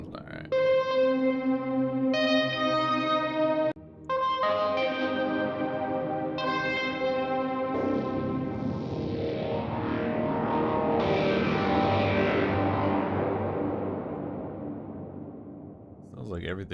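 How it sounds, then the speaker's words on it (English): Sustained tones ring out with a heavy wash of reverb, each note blurring into a long echoing tail that swells and slowly fades. "Sounds like everything's on like a reverb."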